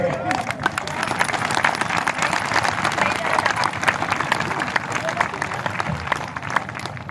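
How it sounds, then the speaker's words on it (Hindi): Crowd applause at a political gathering in a Chhattisgarh village, vigorous continuous clapping from many people, loud and close with a rough, busy texture and faint crowd murmur beneath. "सम्मानपुर के बहिनी मन के जोरदार ताली से स्वागत कर।"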